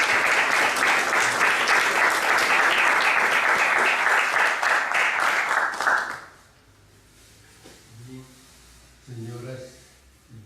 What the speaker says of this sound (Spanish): Recibamos un aplauso.